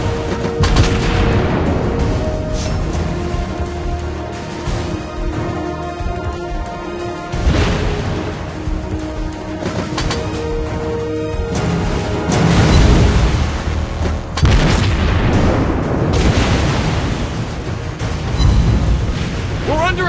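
Naval gunfire and explosions from the video game World of Warships come as repeated loud booms and crashes over about twenty seconds of constant battle noise, with voice lines and talk heard throughout.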